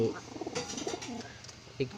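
Pigeons coo in a low, throaty rumble, several repeated calls close by as the birds are readied for release to fly, with faint voices and other noise in the background.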